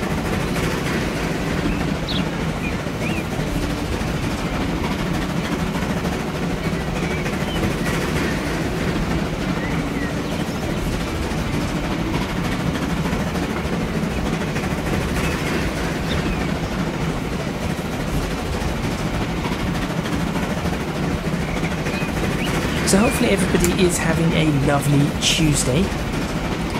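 Trains roll along steadily in the railway simulation game Transport Fever 2, a continuous low rumble with ambient scenery noise running beneath someone talking throughout.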